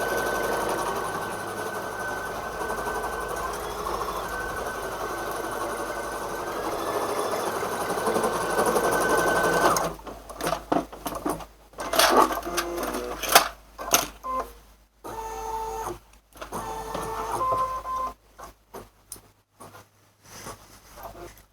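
An embroidery machine stitches a seam on a 3D bear ear, first as a steady whirring hum for about ten seconds, then as rapid choppy bursts of mechanical stitching with brief stops and starts, nearby, with no speech.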